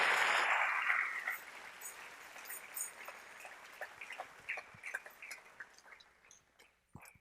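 A church congregation at a morning service applauds. A dense burst of clapping at the start thins quickly into scattered, isolated claps that trail off into near silence, fairly faint overall.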